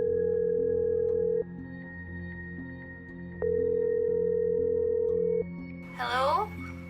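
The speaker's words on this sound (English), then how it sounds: "He pulled out his phone and dialed the number." A telephone line gives a steady dial tone broken by short pauses and clicks as a number is dialed, and a brief burst of another sound enters near the end.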